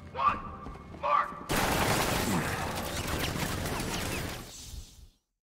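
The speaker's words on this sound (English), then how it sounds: "Activate sentry guns on my mark." Sentry turrets in a Batman video game open fire in a sustained, dense burst of rapid gunfire lasting several seconds and then cutting off abruptly, preceded by a couple of short voiced bursts.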